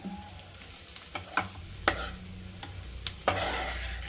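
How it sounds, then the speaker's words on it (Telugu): Cut omelette pieces are stirred into an egg curry in a hot pan: soft scraping spoon strokes over a faint, steady sizzle, heard close but quiet. "ఇప్పుడు కట్ చేసుకున్న ఆమ్లెట్ అయితే అందులో వేసేసుకుందామండి దీన్ని కలుపుకుంటే సరిపోతుంది"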